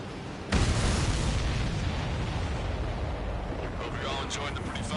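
An explosion erupts in a flying war video game: a sudden booming blast after a brief pause, then a sustained rumbling roar that fills the rest of the moment, with voice chatter faintly underneath.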